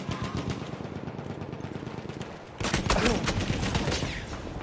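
Gunfire in the video game Titanfall crackles as rapid automatic bursts, thinner at first, then louder and denser halfway through, with a voice faintly present underneath.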